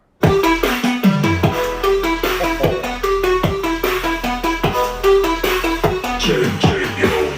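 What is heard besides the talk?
Bluetooth speaker playing music, heavy bass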